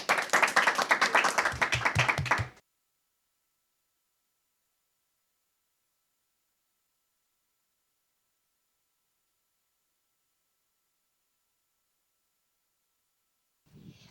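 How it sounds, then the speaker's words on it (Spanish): Audience applause welcoming a guest to a Christian talk show, a short burst of dense clapping lasting about two seconds before falling silent. "a la cual recibimos con un fuerte aplauso"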